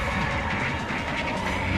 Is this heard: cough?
no